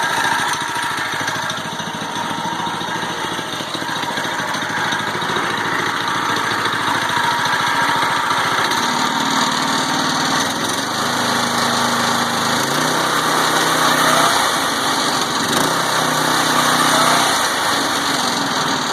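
A Predator 212 gas engine runs steadily in an EZGO Marathon golf cart converted from electric, a loud continuous small-engine drone with a buzzy high whine and slight shifts in pitch partway through.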